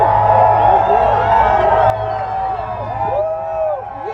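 A large crowd at a Trump rally in North Dakota roars, whoops and cheers continuously from a distance, a dense wash of voices that dips slightly partway through and stays steady.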